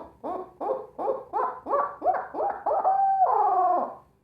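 A turkey call mimics a barred owl's hoot: a rapid series of about nine throaty hoo notes building in rhythm, ending in a long drawn-out wavering cry, close and clear with no talking.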